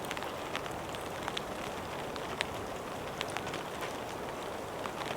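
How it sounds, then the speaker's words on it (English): Rain patters steadily on a tarp in a forest in a dense, even hiss with scattered louder drops, soft and constant. "the sound of the rain on the tarp and the distant hum of the river"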